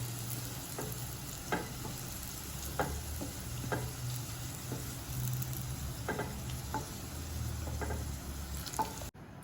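Pieces of bitter gourd (karela) fry in hot oil in a pan with a steady soft sizzle, punctuated every second or so by quiet scrapes and clinks of stirring.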